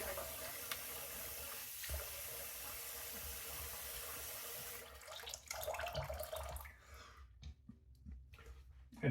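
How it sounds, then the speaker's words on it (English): A cold-water tap runs steadily into a bathroom sink while a face is rinsed after a wet shave, a continuous hiss that breaks into splashes and drips before stopping. "then what I do is I rinse it off with cold water"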